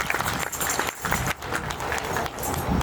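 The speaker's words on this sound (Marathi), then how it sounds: "सर्व उपस्थितांसाठी एकदा जोरात टाळ्या वाजवा" An audience claps loudly and steadily at a sannyas initiation ceremony at a Shri Datta temple in Dhumalwadi, Akole, with a dense, continuous wash of hand claps lasting a few seconds and no talk over it.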